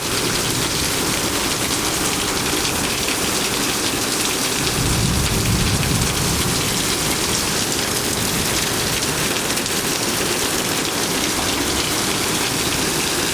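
Heavy rain pours down steadily during a thunderstorm, a loud, dense, continuous hiss of drops on surfaces that surges slightly heavier partway through, with no voices.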